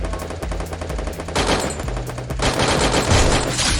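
Gunfire in the battle royale video game Free Fire: loud, sustained bursts of rapid automatic machine-gun fire, with dense rattling shots that swell heavier and closer partway through.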